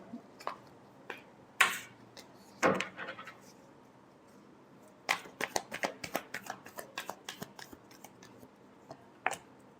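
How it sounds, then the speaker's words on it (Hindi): Tarot cards are shuffled by hand. The clip is quiet and holds a series of sharp riffling bursts and soft card slaps in irregular clusters, with no talking. "last shuffle"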